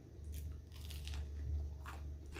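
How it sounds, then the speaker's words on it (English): Someone takes crunchy bites of freshly baked biscuits at a Thanksgiving meal, a few close, crisp crunches and chewing sounds with no talk. "The crunch."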